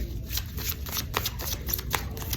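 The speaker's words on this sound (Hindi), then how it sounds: "Let's shuffle the cards again" A deck of tarot cards is riffled and shuffled up close, a rapid papery flutter of slapping cards running continuously for a couple of seconds.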